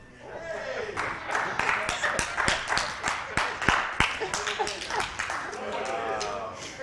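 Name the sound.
audience clapping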